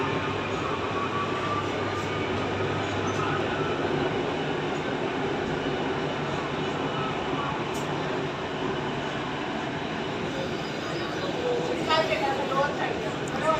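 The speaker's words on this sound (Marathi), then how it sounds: "आता ही मेट्रो स्टार्ट झाली" A Mumbai Metro train running, a steady rumbling hum of wheels and motors heard from inside the car, continuous and even with faint squealing near the end.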